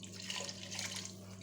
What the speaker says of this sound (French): on verse notre eau